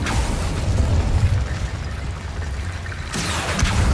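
Fire spell effects from the Hogwarts Legacy video game, with bursts and booming pops over a dense rumbling game soundscape, loud and continuous with a sharp change near the end.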